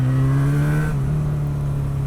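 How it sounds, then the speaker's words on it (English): A Honda motorcycle fitted with the E-Clutch system is downshifted through a corner while the rider feathers the clutch. A steady, close engine drone dips in pitch partway through and then holds on, with no talk over it. "I would much rather have the control, like here, of feathering the clutch out as I downshift through a corner."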